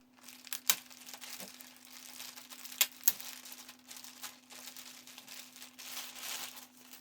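A plastic bag crinkles and rustles while being peeled off an Eren Jaeger Titan version prize figure, with a few sharper crackles among a steady, quiet, close-up rustle and no talking.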